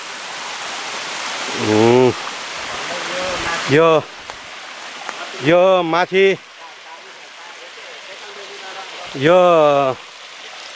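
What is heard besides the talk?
small waterfall stream flowing beside Kamakhya Devi temple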